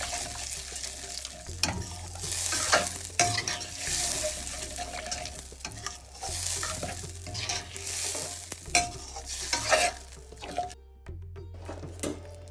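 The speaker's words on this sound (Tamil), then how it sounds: "அரைச்ச பியூரியை சேர்த்துட்டு நல்லா ஒரு ஃபைன் மிக்ஸ் கொடுத்துருவேன்." Ground tomato puree being mixed in a cooking pan, with a wet sizzle and repeated scraping strokes of a spoon, close and fairly loud, and a low hum running underneath.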